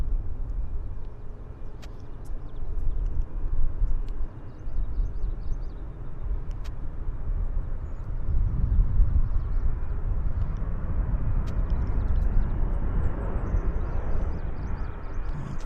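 An Air Canada Dreamliner airliner arrives at Vancouver Airport, a distant low jet rumble that swells and broadens as it approaches, with faint background clicks and no talk.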